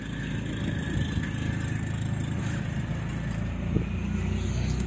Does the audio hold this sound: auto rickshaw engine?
yes